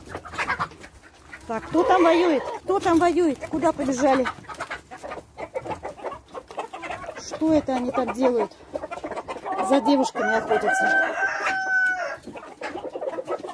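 Chickens cluck and a rooster calls repeatedly nearby in a poultry yard, with a person speaking over and between the bird sounds.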